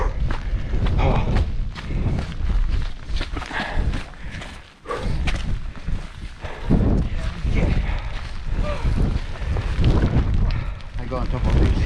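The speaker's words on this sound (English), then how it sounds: "Quite strong actually. The wind." Strong wind on a Yorkshire Dales mountain summit roars in heavy, gusting buffets close to the microphone, with footsteps and a voice speaking under the blustering noise.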